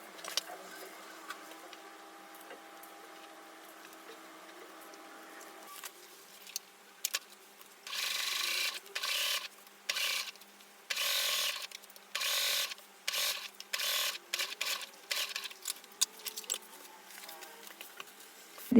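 A sewing machine stitching skirt panels together runs in short, loud bursts with brief pauses between them, following a quieter stretch of faint handling at the start.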